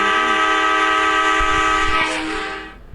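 A train passes close by, its loud, sustained horn-like tone holding steady for a few seconds before tailing off near the end, with rumbling rail noise beneath and no talking.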